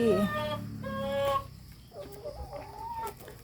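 Farm chickens cluck and squawk up close in a lively run of calls, with a rooster-like drawn-out cry early on and softer fowl chatter after, while someone talks lightly in the background.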